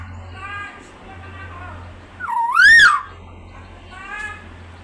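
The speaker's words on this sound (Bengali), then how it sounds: "আপা ডাকে, আপা আপা ডাকতেছে ময়না" A myna bird calls out a word in a human-like voice, a rising and falling whistled syllable heard close and clear near the middle, with fainter chirpy harmonic calls before and after over a low steady hum.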